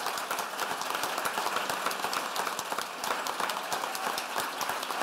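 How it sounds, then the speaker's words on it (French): An audience applauds at a round-table discussion on palliative care, a dense, steady patter of many hands clapping throughout, moderately distant and with no speech over it. "Donc, s'il vous plaît, applaudissez-les."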